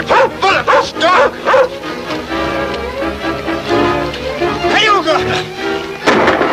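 A dog barks and yips repeatedly at close range, with sharp bursts amid a busy, noisy scene in a 1938 film serial, mixed with other sounds and voices.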